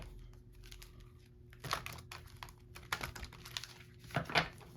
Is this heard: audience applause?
no